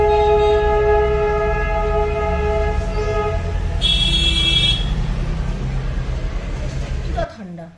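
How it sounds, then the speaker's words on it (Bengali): Toy train with two carriages rolling slowly past outdoors on a New Year morning, a steady rumble with a sustained horn-like tone, then cut off abruptly near the end; a voice speaks over it. "এই দেখো টয় ট্রেন আসছে, দেখতেই পাচ্ছেন।"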